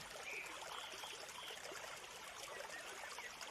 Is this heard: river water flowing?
yes